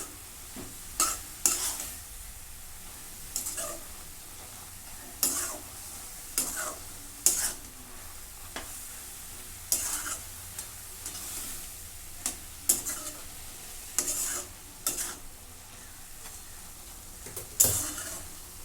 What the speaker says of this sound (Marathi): मीठ सगळ्या भाजीला आता लावून घेते मिक्स करून